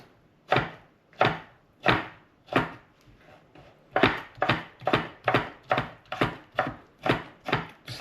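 A knife chops garlic on a cutting board for chimichurri, a series of crisp, close, evenly spaced strikes that speed into a quicker rhythm partway through.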